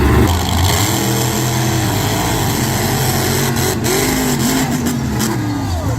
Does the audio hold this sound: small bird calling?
no